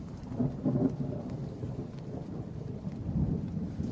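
Thunderstorm with a heavy rain downpour, steady rain hiss with deep rolling thunder rumbles swelling and fading throughout, loud and enveloping outdoors.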